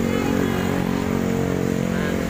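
A motorcycle rumbles past close by near a bus agent's stop at a suspension bridge. Its engine drones steadily under a mix of other traffic.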